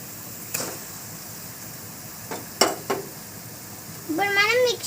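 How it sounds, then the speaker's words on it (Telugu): Ginger garlic paste hitting a pan of browned onions and green chillies, giving a soft sizzle with a few sharp clinks of a utensil, and a voice speaking near the end. "దీంట్లో మనం అల్లం వెల్లుల్లి పేస్ట్ వేసుకుందాం"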